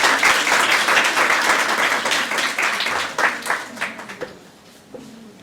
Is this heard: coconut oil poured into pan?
no